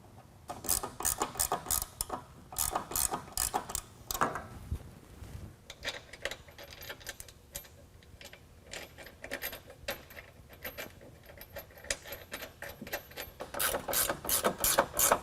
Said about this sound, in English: we can go ahead and tighten down all the hardware underneath